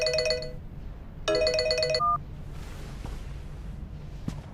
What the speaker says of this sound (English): I'm sorry, I have an urgent phone call.